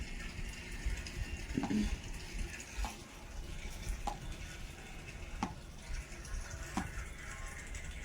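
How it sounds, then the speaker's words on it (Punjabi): Water splashes and drips into a water tank, a soft continuous trickle with regular hollow knocks every second or so, faint and without talk. "ਇਹ ਟੈਂਕੀ 'ਚ ਖੜਕਾ ਹੋਈ ਜਾਂਦਾ ਪਾਣੀ ਡਿੱਗਦੇ ਦਾ"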